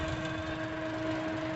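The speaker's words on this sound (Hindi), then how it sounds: "ये रही इंजन की आवाज़, रनिंग इंजन है" A 2019 Ford Figo's 1.2-litre petrol engine idles with a steady, even hum and a faint whine, continuous and unchanging, heard close by with no talking.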